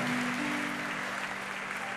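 A church congregation at a Spanish-language youth service applauds together, a continuous broadband clatter of many hands holding steady throughout, with a low sustained hum beneath.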